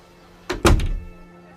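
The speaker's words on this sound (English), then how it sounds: "And the woman closed the door." A door swings shut with a solid thunk, a short soft lead-in then one heavy close, near and alone in a quiet room.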